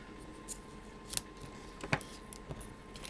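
Scissors snip paper close to the edge of a handmade card beside foam tape, a couple of short, quiet cuts spaced apart against a faint room background.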